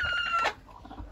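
A broody hen gives a brief, close, throaty cluck that fades quickly into quiet.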